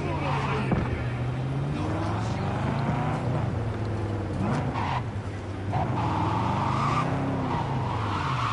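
A car skids with a squealing tire in Cyberpunk 2077, a steady engine drone underneath as the pitch of the squeal bends and slides across several seconds, loud and close throughout.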